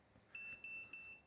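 The buzzer on a NewbeeDrone Infinity 255 AIO flight controller gives a quick run of four or five faint, high, evenly spaced electronic beeps.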